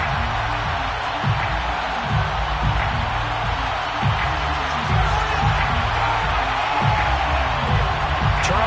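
Stadium crowd noise from the Madden 22 football game, a steady loud roar of fans before a matchup against the New York Giants, continuous throughout with faint scattered thumps underneath.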